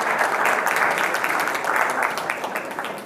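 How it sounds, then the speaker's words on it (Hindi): Hearty applause from a school crowd at a Constitution Day general knowledge quiz, given to a contestant: many hands clapping in a thick, steady wash that eases slightly toward the end. "ताली बजा दो फिर जोरदार इनके लिए।"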